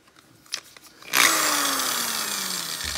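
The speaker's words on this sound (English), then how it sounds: "drill and punch that out." Power drill with a larger bit boring out a rivet on a Volkswagen hub cap: a few faint clicks, then a loud, sustained whine of the drill biting into metal that continues to the end.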